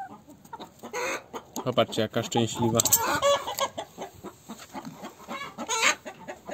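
Hens cluck and cackle close by in a run of irregular calls, with one louder squawk near the end, and a person talks briefly among them.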